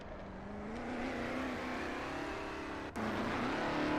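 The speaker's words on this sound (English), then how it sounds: "As Stop Bounce is trying to do a burnout" A Stadium Super Truck does a burnout on the Long Beach street circuit, its engine roaring in a steady, loud drone with a brief dip near the end and no voices.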